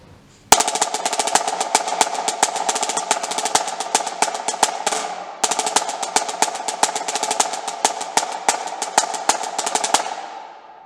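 A snare drum plays a fast SEC-style marching beat, dense rapid strokes with accents and rolls, close and crisp, running as two loops of about five seconds each with a short pause between and no talking.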